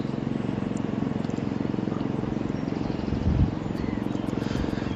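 A mini tractor pulling a trailer around a private lake gives off a steady, rapidly pulsing engine chop like a helicopter, moderately loud and constant throughout, with a brief bump of nearby handling noise midway.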